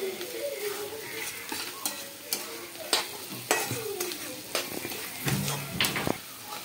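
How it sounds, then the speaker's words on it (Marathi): A spoon scrapes and clinks in a pan as onion and turmeric are stirred and sautéed for kanda poha, with soft sizzling under irregular, close stirring strokes. "हळद परतून घेतल्यानंतर आता आपण पोहे मिक्स करायचे आहेत।"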